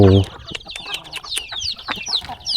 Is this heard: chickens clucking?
yes